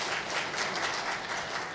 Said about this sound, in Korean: 우리 먼저 하나님께 그리고 두 분에게 감사의 박수를 한번 좀 올려드리면 어떨까요?